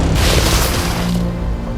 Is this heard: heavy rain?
no